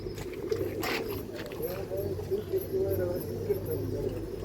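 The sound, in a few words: pigeons cooing at a pigeon farm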